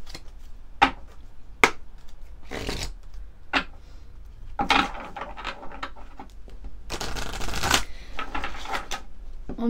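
Mary Magdalene oracle cards are shuffled in short, crisp riffling bursts separated by pauses, then a longer continuous shuffle, close and fairly loud with no talking.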